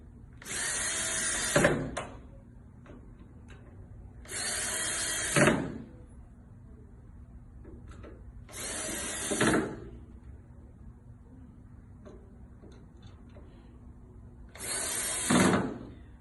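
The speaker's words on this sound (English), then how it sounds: "With a drill or with a screwdriver, you're going to screw down the washer and the screws." A power drill whirs in four separate bursts, each lasting about a second or two, driving screws and washers into a floor, with quiet pauses in between.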